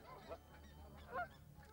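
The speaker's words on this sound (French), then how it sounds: "Tycho, ce n'est vraiment pas le moment de jouer avec ses oies." Geese honk twice in a cartoon scene, two short quiet nasal calls spaced about a second apart over a low hum, with no voices.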